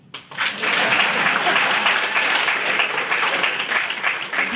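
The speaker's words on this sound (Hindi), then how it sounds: "ताली बजाओ." An audience at a business club event bursts into loud, sustained applause, a dense wash of clapping that runs throughout with a faint voice underneath.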